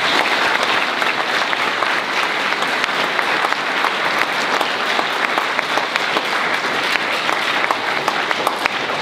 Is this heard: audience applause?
yes